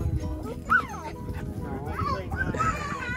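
Puppy at a family birthday gathering yipping and whimpering with short high whines and a couple of small barks, heard under ongoing people's chatter indoors.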